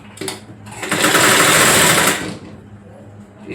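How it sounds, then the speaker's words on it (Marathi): A sewing machine runs in a short burst of steady stitching on a blouse, loud and close, starting after a brief click and winding down to near quiet. "इथे शिलाई मारायची आणि नंतर पुन्हा इथे पुन्हा शिलाई मारायची"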